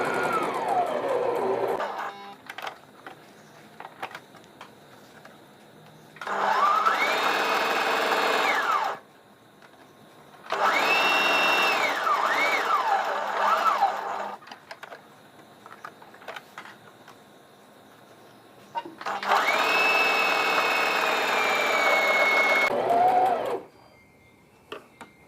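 A sewing machine stitches polyfiber onto inner cloth for a wedding potli bag, running in three bursts of a few seconds each, with quiet handling and shuffling noises in the pauses between.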